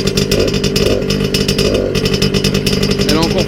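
A running MBK 51 Club moped engine, still cold, buzzing loudly and steadily close by, with a rattling exhaust adding a ratchety chatter; someone speaks over the engine noise.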